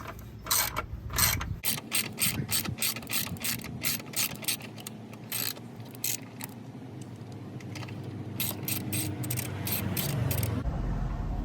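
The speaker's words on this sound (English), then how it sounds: "this is a 15 millimeter socket that I have on the ratchet" A 15 mm socket on a ratchet works at a Dodge Journey's negative battery terminal, making rapid, crisp clicking runs up close, broken by short pauses and ending in a low rumble.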